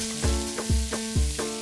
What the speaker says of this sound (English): I'm gonna go ahead and fry up this amazing shrimp paste. I'm gonna add in my onion.